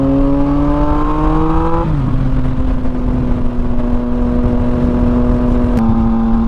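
Yamaha FZ-09 (MT-09) naked motorcycle being ridden uphill, its engine droning steadily close by, the pitch dropping at a gear shift partway through and again near the end, with no talk.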